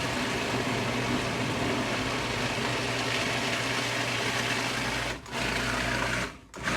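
A food processor pulses prunes with kirsch, giving a steady loud mechanical whir with a low hum that cuts out briefly twice near the end, with no talking.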